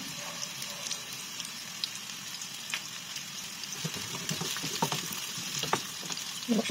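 Chopped onion and garlic crackling in hot oil, a dense, continuous sizzle with popping and stirring that grows busier toward the end, close up and with no voices.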